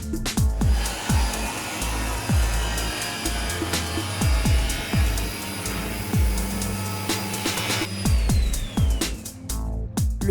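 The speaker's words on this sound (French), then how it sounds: "Utilisez une fraiseuse pour rainurer le panneau." A router whirs steadily as it grooves the back of an insulation panel, a loud continuous machine drone with repeated low thumps, its pitch dropping as the tool winds down near the end.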